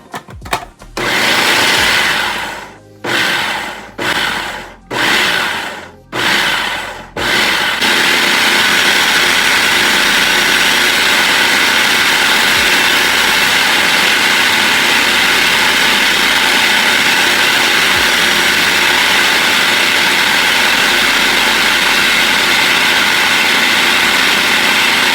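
A food processor blends roasted red pepper hummus while oil is added. It starts with several short, loud pulses, then settles into a continuous, steady whirring roar that runs on for the rest of the clip.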